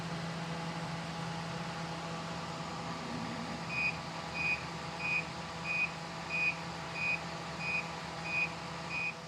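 A Toptes TR-389 refrigerant leak detector alerts at a car A/C condenser, sending out a steady series of about nine evenly spaced high beeps over a low engine hum and background rumble.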